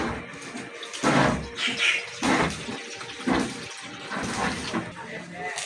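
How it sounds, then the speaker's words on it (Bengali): Water poured into a wok set on a lit stove, heard as several bursts of splashing and gurgling, close and fairly loud, with a voice talking over parts of it. "এবার আমি কড়াইতে দিয়ে দেব জল।"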